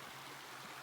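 Cliff Creek, a mountain stream in the Rockies, flowing with a soft, steady wash of running water, faint and continuous.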